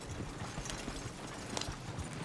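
Horses walking in the Red Dead Redemption 2 video game, soft irregular hoof clops amid quiet outdoor game ambience, faint and fairly distant.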